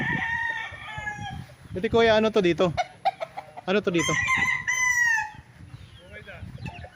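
Roosters crow loudly and repeatedly at a game farm in Pagsanjan, Laguna, their calls close and overlapping, with a voice speaking in between.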